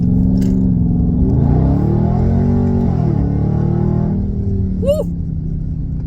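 A muscle car accelerates hard on the road, its engine revving up in a deep, loud, climbing roar before easing off, with a short sharp chirp near the end.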